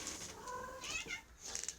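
A cat gives short meows close by, one rising cry near the middle and a brighter squeak toward the end, over faint room noise.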